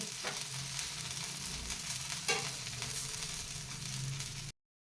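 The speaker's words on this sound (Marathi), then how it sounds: "आणि थोडंसं वरूनसुद्धा तेल सोडायचं आहे आणि हे थालीपीठ छान असं भाजून घ्यायचं आहे" Masala thalipeeth, a spiced flatbread, fries in oil on a pan over a medium flame with a soft, even sizzle and a couple of light scrapes before it cuts off abruptly.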